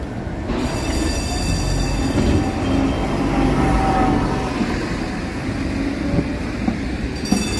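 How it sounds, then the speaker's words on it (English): A historic streetcar, originally from Cincinnati and refurbished, rumbles along the tracks in San Francisco, close and steady, with faint metallic wheel squeal and clicking over the continuous roar. "Very cool historic streetcar, which you can read the sign in there."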